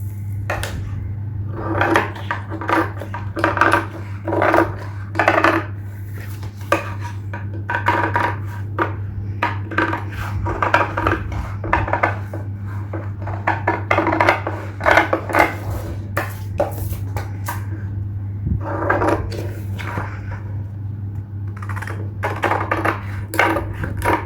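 Scissors snip repeatedly through blouse fabric laid on a tailoring table, giving irregular bursts of crisp cuts and clicks over a steady low hum, with no talking.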